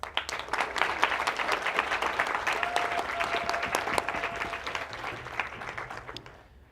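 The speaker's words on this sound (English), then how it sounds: "please welcome him with a round of applause" A lecture-hall audience gives a sustained round of applause to welcome a design talk speaker, broad and even throughout, then tapering off at the very end.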